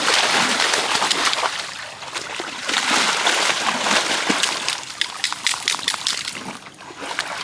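A dog splashes through a small Florida park creek. The water sloshes and splatters steadily and loudly, close by, for the whole stretch with no pause.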